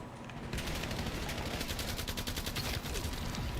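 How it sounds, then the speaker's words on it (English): Rapid bursts of gunfire from a slow-firing gun in a video game, a dense run of sharp repeated shots filling the whole stretch, loud and close with no talking. "This gun is so slow shooting, but hits pretty good."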